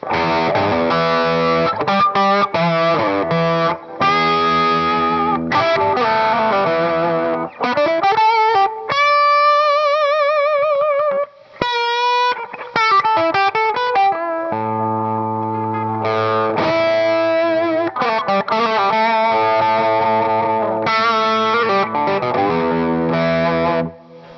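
Electric guitar driven through a Klon KTR overdrive pedal into a cranked amp, playing loud, continuous distorted chords and sustained bent lead notes, with brief pauses between phrases and no talking.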